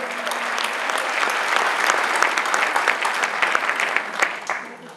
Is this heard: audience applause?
yes